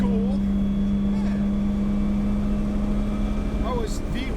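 A 1JZ VVT-i swapped Nissan 240SX runs at a steady, loud low drone with a constant tone while the driver works the clutch, engine note wavering slightly near the end as people talk over it.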